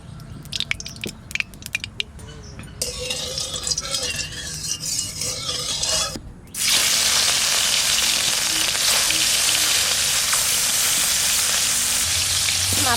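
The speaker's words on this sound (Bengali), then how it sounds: "কড়াই গরম হয়ে গেছে, তেল দেব, সর্ষের তেল।" Mustard oil goes into a hot wok after some quieter clinks and kitchen handling. A loud, steady sizzle then bursts up and carries on unbroken at close range.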